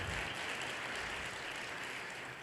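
Applause from a church congregation, a dense, continuous roar of many hands clapping together, steady and evenly loud throughout.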